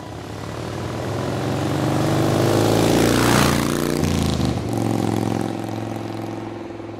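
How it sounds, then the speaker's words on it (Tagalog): A motorcycle engine starts and revs, its loud, steady drone rising and falling in pitch as it pulls away, with no voices over it. "Pinaandar na nga ni Dave ang kanyang motor"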